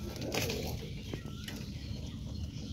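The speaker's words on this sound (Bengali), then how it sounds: "এটা মাদি পায়রা।" A female pigeon in a coop where eggs are hatching gives soft, low cooing under a constant background rumble. A brief flutter briefly joins it, and no one speaks.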